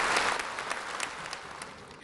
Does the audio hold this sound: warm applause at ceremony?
yes